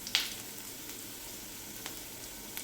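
Finely chopped garlic fries in oil over a low flame, a faint, steady sizzle with a brief sharp crackle at the start and a couple of soft clicks later, heard alone without talk.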